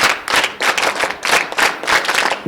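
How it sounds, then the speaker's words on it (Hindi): A small group claps in quick, even bursts, close and lively, with no talking over it. "ताली बजा, बहुत बढ़िया"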